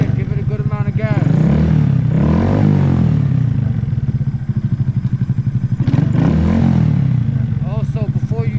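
A Honda Grom motorcycle engine revs hard twice, rising and falling in loud close surges over a steady idle putter, with mechanical clatter throughout.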